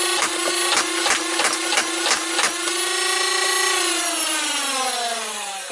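An upgraded Nerf Infinus blaster fires full auto: a rapid, loud burst of about eight clacking shots over a motor whine, followed by the motor spinning down and fading.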